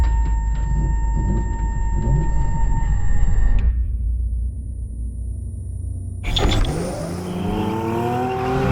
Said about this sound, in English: then we hear the full sound of the engine